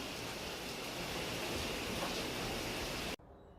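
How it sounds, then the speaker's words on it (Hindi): Heavy midnight rain pours as a steady, dense broadband hiss for about three seconds, loud and close, then cuts off abruptly near the end, leaving only faint low background. "आवाज़ आपको आ रही होगी बारिश की।"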